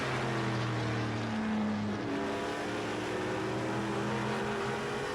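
Race cars lap an oval track late in the Cleaver Classic at Golden Sands, heard as a steady, moderately distant engine roar with pitch shifts as cars pass.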